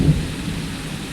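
Thunder rumbling low and heavy during a rainstorm, a deep roll near the start fading into a steady wash of rain, loud and close with no voices.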